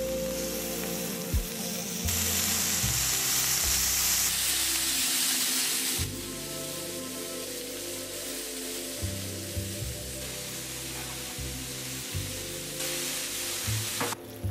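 Lamb searing and browning in a hot pan for a stew, with a dense, continuous sizzle that holds steady and shifts in intensity now and then, close and loud, with no voices over it.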